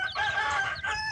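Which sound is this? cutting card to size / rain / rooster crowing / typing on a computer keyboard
rooster crowing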